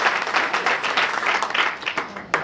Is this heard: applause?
yes